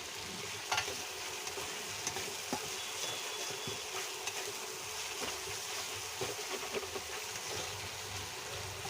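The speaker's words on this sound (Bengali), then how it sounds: "এখন আমি মশলাটা ভালো করে কষিয়ে নিই।" Spice paste for a rohu fish curry with potatoes and taro is stir-fried over raised heat, a steady quiet sizzle broken by frequent light scrapes and taps of a spatula against the pan.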